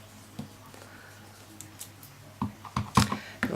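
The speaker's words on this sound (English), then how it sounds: "I'm just going to stamp these randomly" A rubber stamp presses onto paper in a quick run of soft taps and thumps, close and fairly quiet, clustering faster toward the end, with no one talking.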